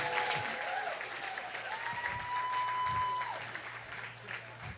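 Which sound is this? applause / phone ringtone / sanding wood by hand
applause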